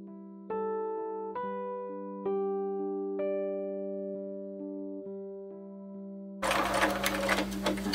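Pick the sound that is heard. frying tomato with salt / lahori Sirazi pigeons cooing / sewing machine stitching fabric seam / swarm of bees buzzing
sewing machine stitching fabric seam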